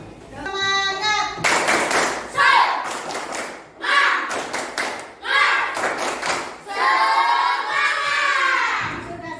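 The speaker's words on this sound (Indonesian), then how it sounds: "kita lakukan tepuk semangat dahulu" Indonesian schoolchildren do a 'tepuk semangat' clapping routine in class: several rhythmic bursts of loud group claps and thumps, separated by short pauses, with children's voices chanting and shouting along.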